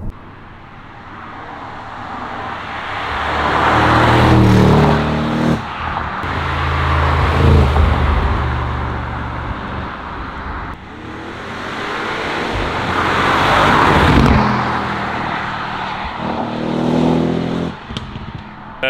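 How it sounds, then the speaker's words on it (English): Audi RS7 C7 revving and accelerating hard in repeated loud surges, each rising pull fading back before the engine climbs again, close and alone without talk. "That's just absolutely ridiculous how that car sounds."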